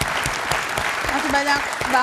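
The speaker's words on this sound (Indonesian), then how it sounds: "kita beri tepuk tangan dulu untuk Ibu" Studio audience on an Indonesian talk show claps for a female guest: quick, sharp claps running throughout, with a voice talking over them.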